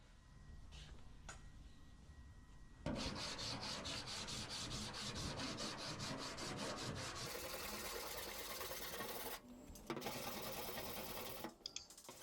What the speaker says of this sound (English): that's all I'm doing is just filing down, leveling out the panel